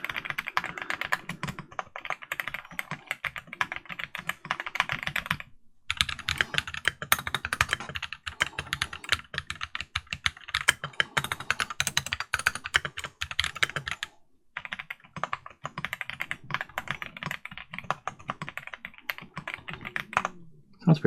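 A KBDfans Tiger Lite mechanical keyboard is typed on rapidly and close up, producing a dense clatter of key clicks in bursts broken by two brief pauses.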